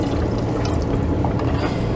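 Water pours into a pot of rice seasoned with saffron, a brief, steady, close splashing pour.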